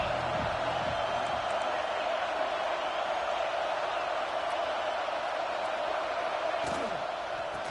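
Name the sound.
stadium crowd in NCAA 26 football video game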